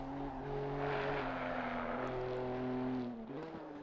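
BMW GT4 and M2 Cup race cars circle the Paul Ricard circuit, engines droning and shifting pitch as they pass at a distance, a steady layered whine that rises and then drops away.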